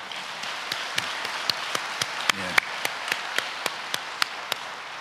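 Scattered claps welcome a new pastor at a church gathering, a dozen or so sharp separate hits spread steadily across the stretch rather than a full ovation, with a brief murmur of voices near the middle.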